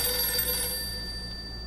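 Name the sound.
telephone ringing in a video game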